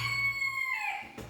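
A rooster crows once, a single drawn-out call that is fairly close and clear, with no talk over it.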